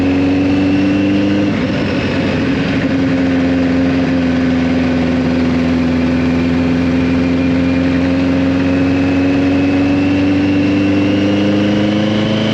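A 1983 Kawasaki GPZ1100 motorcycle engine runs steadily nearby, a loud continuous mid-pitched drone with a brief rise in revs early on, then holding an even note.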